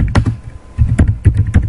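Typing on a computer keyboard, close and loud, a steady run of key clicks in small irregular clusters.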